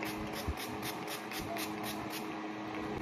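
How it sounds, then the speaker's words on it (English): Makeup setting spray hissing in a steady, continuous stream of fine mist, fairly close and alone with no talk. "This is the best makeup setting spray."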